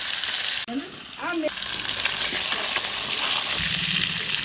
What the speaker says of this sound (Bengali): প্রচুর লতিটা রান্না করার জন্য মাছের মাথাটা ভেজে নেব